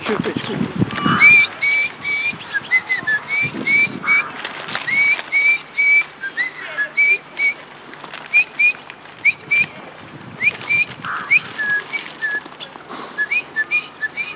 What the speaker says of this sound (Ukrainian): Виходячи з дому, він закликає їх свистом.